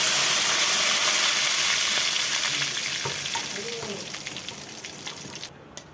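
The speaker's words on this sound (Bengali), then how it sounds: "নিম পাতাটা ভাজা হয়ে গেছে" Neem leaves and dried red chillies crackle and sizzle in hot oil at close range, loud at first and slowly quietening, with a few stirring scrapes and no voices.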